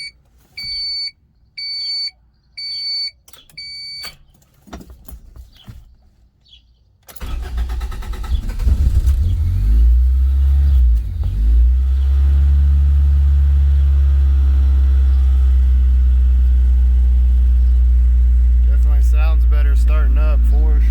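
A 1991 Honda Civic hatchback engine cranks and catches about seven seconds in, then settles into a loud, steady run close by. Before it starts, a scanner or alarm beeps in repeated bursts.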